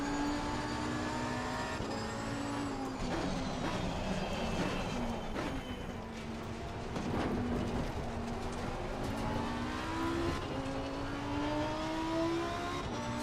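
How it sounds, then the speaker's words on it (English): A white 2015 Lamborghini Huracan GT3 race car with a gray stripe roars through a racing game lap, its engine revving steadily with rising and falling pitch through gear changes, loud and continuous with no talk. "this is a Lamborghini Huracan 2015 GT3, all white with a gray stripe"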